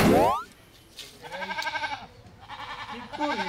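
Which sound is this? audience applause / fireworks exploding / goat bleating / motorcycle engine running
goat bleating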